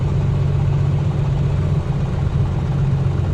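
A video game aircraft engine idles with a loud, steady low rumble and a slightly uneven, lumpy pulse from a misfiring weak cylinder, running continuously with no voices.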